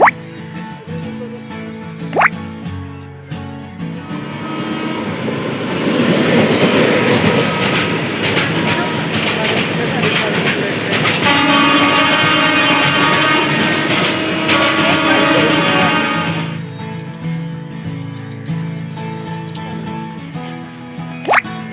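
A train rumbles steadily with rattling wheels and metallic clatter, loud for most of the stretch, then fades back to quieter ambient station noise.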